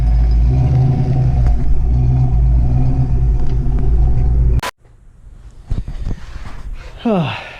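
A Ford Mustang engine rumbles loudly and steadily, then cuts off abruptly, leaving quieter clatter and knocks before a short rising rev near the end.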